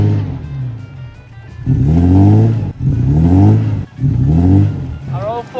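A 25-year-old Toyota Land Cruiser with its wheels spinning on snow and ice during winter camping, its engine revving up in three repeated surging bursts close by, with people talking briefly.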